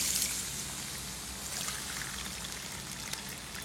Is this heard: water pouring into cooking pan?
yes